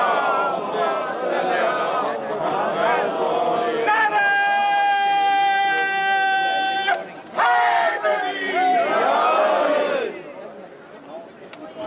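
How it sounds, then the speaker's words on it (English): A large crowd at a gathering at Jannat Al Baqee loudly recites a salawat in unison, with a voice leading the chant and a sustained tonal chorus swelling through the middle before the crowd sound returns. "Please welcome him with a loud salawat."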